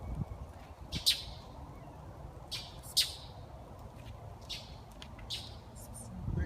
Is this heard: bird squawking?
yes